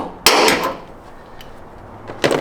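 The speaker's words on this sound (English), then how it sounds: "Grab our punch. We're gonna set it right on that mark" A metal punch set on a marked spot of a Toyota Tacoma hood, giving two sharp knocks about two seconds apart amid quiet garage background, with no talking.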